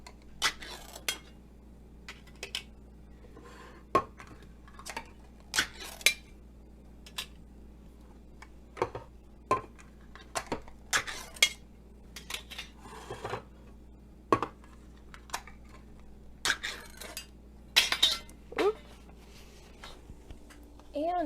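Metal pot lids lifted off and set down in a home kitchen while chili is being made, a string of sharp clanks and clinks spaced irregularly, fairly close, with a low steady hum underneath.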